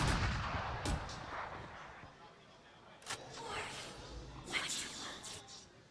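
Gunfire bursts in the Valorant video game during a pro league match, several sharp cracks and volleys spread across a few seconds amid busy game noise, with commentators talking over the action.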